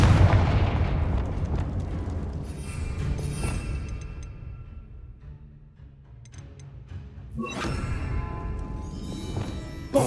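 A Confringo spell explosion in Hogwarts Legacy: a heavy boom bursts out at the start and rumbles away, then a second blast hits later and fades.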